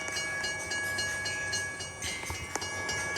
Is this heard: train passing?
yes